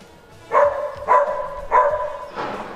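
Three sharp dog barks at an even pace, fairly close, followed by a softer fourth bark, with quiet room noise in between.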